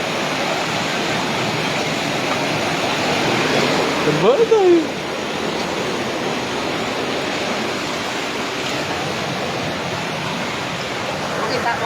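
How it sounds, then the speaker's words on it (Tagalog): Floodwater swollen by typhoon rains rushes past a boarding house in a loud, unbroken roar close by, with a brief bump partway through and someone speaking a word over the torrent. "Laki na ng tubig oh."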